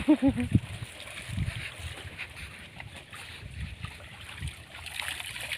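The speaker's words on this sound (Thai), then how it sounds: "น้ำไหลเชี่ยวมากเลยค่ะดูค่ะ" Rushing, swollen river water churns steadily with a broad, noisy hiss, a few brief vocal sounds at the very start, otherwise no talk.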